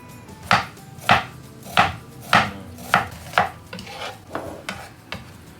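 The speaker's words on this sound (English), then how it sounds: "And cut the bacon." A knife chops bacon on a cutting board for carbonara, with about ten crisp, evenly spaced strokes close up that grow slightly softer toward the end.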